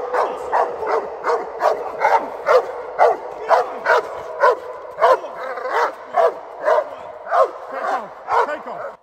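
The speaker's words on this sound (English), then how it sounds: "A very strong, relentless, fearless bark that is absolutely passionate, dedicated, and meaningful" A protection dog barks relentlessly at an intruder, a steady rhythmic series of about fifteen loud, close, strong barks in quick succession with no other sounds between them.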